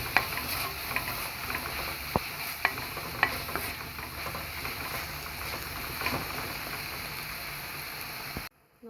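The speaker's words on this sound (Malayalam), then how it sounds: "ഗരം മസാല നന്നായിട്ടൊന്ന് ഇളക്കി യോജിപ്പിക്കുക." Garam masala is stirred into onions in a sizzling pan for a chicken gizzard roast, giving a steady frying hiss with a few sharp spoon scrapes and taps, then a sudden cutoff at the end.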